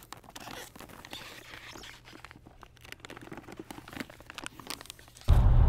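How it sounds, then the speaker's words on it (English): V-Bio polyethylene wrap is pulled tight around a pipe and taped, giving close crinkling and rustling of plastic sheeting with soft scrapes, ending in a sudden loud thump. "pull it tight and wrap it completely around with a strip of tape"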